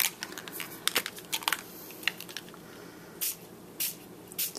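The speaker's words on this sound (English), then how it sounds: "I'm using this Perfect Pearls Mist Interference Red. I'm going to spray it" Perfect Pearls Mist Interference Red sprayed onto a handmade Christmas card: several short, soft hissing bursts in irregular succession, close and quiet, with faint handling noises between them.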